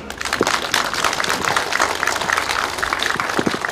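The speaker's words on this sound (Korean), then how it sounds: "시장님하고 의원님한테 감사하다고 박수 한번 주세요" A crowd claps steadily and densely at the opening ceremony of a farm cooperative's machinery rental centre, moderately loud with no pauses.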